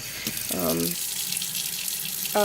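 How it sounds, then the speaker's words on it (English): Tap water runs steadily into a container for cleaning a stainless steel stove top, a constant close hiss of flowing water heard throughout, with brief bits of talk over it. "let's just get some water in there"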